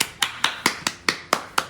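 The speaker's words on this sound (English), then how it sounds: "Round of applause." Two hands clap in a steady beat, eight sharp claps close by, with a round of applause given for a child helping bake Christmas sugar cookies at home.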